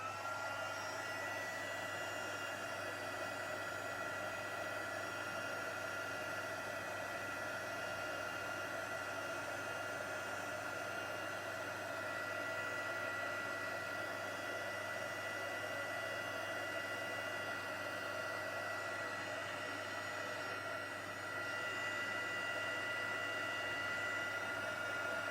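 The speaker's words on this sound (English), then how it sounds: "I'm going to turn the heat gun on and just melt that powder until it goes nice and shiny." A heat gun melts embossing powder with a steady, even blowing hiss that holds unchanged at moderate level throughout, with no other sounds.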